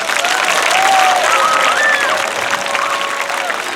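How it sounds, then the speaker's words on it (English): Loud applause from about a thousand students at an outdoor event, dense clapping close and sustained, with a few whistles and voices rising over it. "Let's give them all a round of applause."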